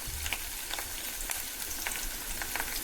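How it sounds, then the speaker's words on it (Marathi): A Marathi-style tempering of curry leaves, cumin, mustard seeds, garlic and onion fries in hot oil, giving a soft, steady sizzle with faint crackles and occasional stirring, fairly quiet and without speech. "इकडे कढीपत्ता, जिरा, राय, लसूण आणि कांदा वगैरे टाकून फोडणी चालले."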